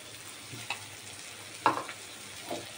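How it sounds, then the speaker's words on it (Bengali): Spices fry with beaten yogurt for a puti river fish curry, giving a quiet sizzle broken by a few sharp stirring clicks of a spoon in the pan. "দই দিয়ে আমি একটুখানি কষিয়ে নিলাম।"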